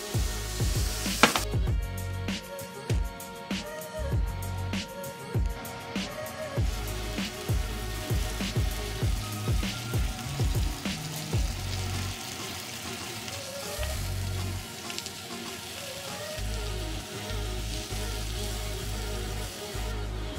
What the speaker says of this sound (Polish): Teraz musimy bardzo dobrze obsmażyć naszą polędwiczkę, czyli na bardzo rozgrzanej patelni z jakąś tam odrobiną tłuszczu, oleju.